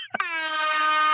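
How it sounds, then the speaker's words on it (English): A loud air horn sound effect blasts after a short click, holding one steady, brassy tone for about a second without fading. "Dude, give me an air horn now."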